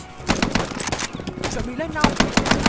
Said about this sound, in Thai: เอเคเล่นดีเว้ยยิงดีวะ